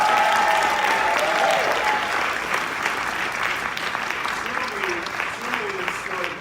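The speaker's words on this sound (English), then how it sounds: "can we just get another round of applause?" Sustained, dense applause from an audience at a SphinxTank event, loud and even, with a few voices faintly audible beneath the clapping.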